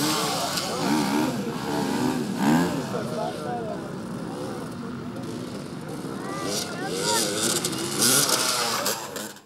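Enduro motorcycle engines roar and rev continuously at a motorsport competition in Sukhumi, a loud, wavering engine drone with rising and falling pitch sweeps throughout, heard alongside speech.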